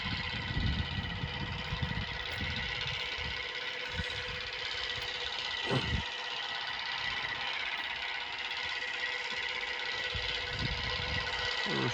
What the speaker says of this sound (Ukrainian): Димок пускає тракторець.